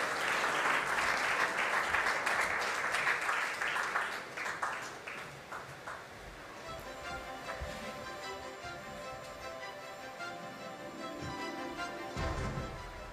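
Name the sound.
audience applause at an awards ceremony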